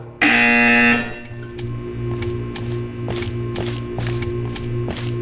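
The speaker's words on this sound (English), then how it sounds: "When you hear the buzzer, stare at the art." A loud, harsh electronic buzzer from the Portal 2 video game blares for about a second, then cuts off. A steady mechanical hum continues beneath sharp periodic ticking or clanking.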